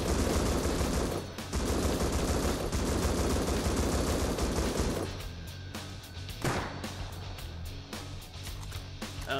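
Gunfire from the video game Rust, a dense stretch of rapid shots and blasts that stays loud and continuous for about five seconds, then thins into sporadic, quieter reports and background rumble.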